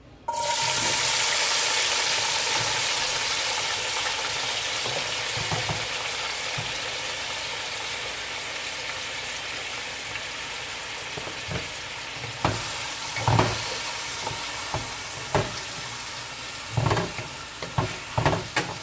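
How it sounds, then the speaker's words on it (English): Oil sizzles loudly as seasoning hits two tablespoons of oil in a frying pan, settling into a steady fry, later broken by scattered clinks and scrapes of stirring. "In this frying pan, I have 2 tablespoons of oil. I'm going to go ahead and add my seasoning."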